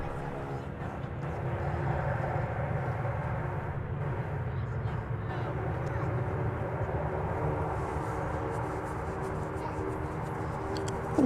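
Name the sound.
American Airlines Boeing 737-9 landing at DFW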